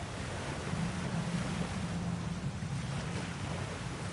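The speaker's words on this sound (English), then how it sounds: "Sounds like you got the water moving along" Water flows steadily in the God of War Ragnarok video game, a soft continuous rushing wash like surf or a stream that stays even and low in level, with no talk.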